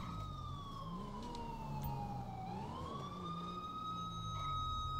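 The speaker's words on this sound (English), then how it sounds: "You have a siren running." A video game police siren on a highway patrol Crown Victoria Police Interceptor wails, sweeping slowly down and back up in pitch, steady and continuous over a low engine hum, with no voices.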